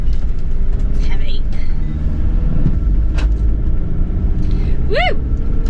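A heavy camper van pulls away on a road in the Lake District, its engine rumbling steadily and close, with a voice and cheer over the drive.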